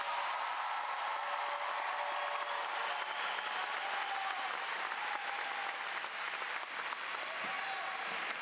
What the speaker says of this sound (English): Please join us in applauding these Meadowbrook scholars.